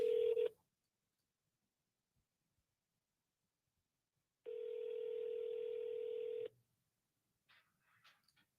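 Telephone call dialing out: a steady tone burst at the start, a long ringback tone partway through, then faint scattered sounds after, with no talking.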